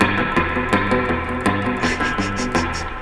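Surf-style electric guitar drenched in drippy spring reverb, playing a driving rhythmic riff with repeated picked notes and bursts of percussive attack.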